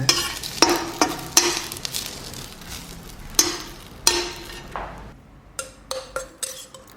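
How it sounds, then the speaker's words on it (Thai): Sweet peppers are dry-roasted in a pan: a string of sharp spatula scrapes and clanks, some closely spaced, over a faint sizzle, nearby and fairly loud, with no voices. "นำพริกหยวกลงไปคั่วต่อ คั่วจนสุกเลยนะ"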